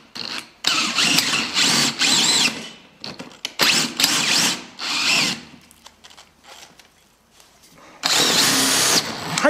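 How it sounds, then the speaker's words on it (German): A power drill whines loudly in several long bursts, stopping and starting again, with a coarse grinding edge as the big bit bites in. "da müsst du ja aufpassen mit so großen Bohren,"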